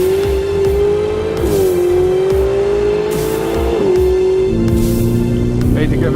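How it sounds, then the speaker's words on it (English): A Ferrari 488 GTB engine pulls hard under full throttle, its loud rising whine dipping briefly at each gear change before climbing again, heard from close by without a break. "the car skyrockets from 0 to 100 kilometers an hour in just 3 seconds"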